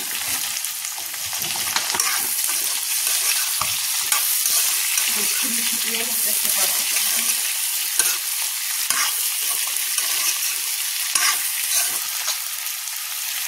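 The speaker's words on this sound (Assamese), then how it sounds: "প্ৰথমতে আলু আৰু ৰঙলাওখিনি সিজাই লম" Potatoes and pumpkin fry in a pan with a steady bright sizzle, while a utensil scrapes and stirs through them in soft intermittent strokes, continuous and close.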